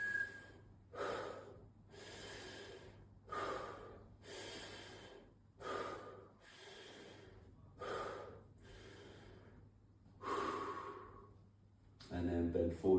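Slow, deep, audible breaths, roughly eight to nine in steady rhythm, drawn close to the microphone during a fascia stretching and movement exercise, with brief speech at the end.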